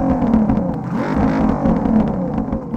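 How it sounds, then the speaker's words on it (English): A Nissan S13 engine revs and drones steadily in the drift game Peak Angle, rising and falling in pitch, loud and close, with no talking. "it sounds too much like a V8."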